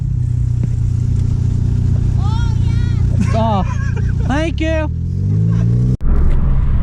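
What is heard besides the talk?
Hyundai Veloster with shredded, loosely hanging exhaust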